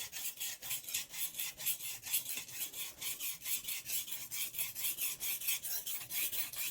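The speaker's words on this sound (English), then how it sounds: "I personally start sharpening from the heel to the tip." Japanese kitchen knife drawn across a whetstone from heel to tip, giving a steady series of close, rhythmic rasping scrapes, about two strokes per second, with no voices.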